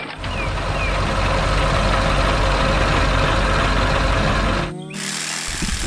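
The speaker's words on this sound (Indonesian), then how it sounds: "Traktor sedang bekerja keras memangkas pohon di taman hijau." Tractor engine running hard while pruning trees in a green garden, a loud continuous diesel drone with mechanical rattle that drops off abruptly near the end.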